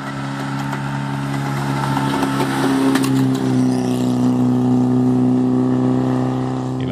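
Prepared rally cars climb a mountain road during a hill climb competition, a continuous loud engine drone with gear changes and revving, steady and fairly close throughout with no talk.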